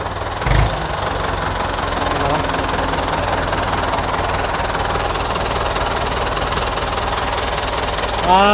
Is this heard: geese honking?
no